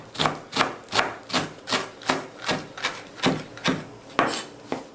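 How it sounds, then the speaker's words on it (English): Knife chops fresh cilantro on a cutting board for salsa in a steady, even rhythm of about ten crisp thuds, close and fairly quiet, with no talking. "then cut it as fine as you want it"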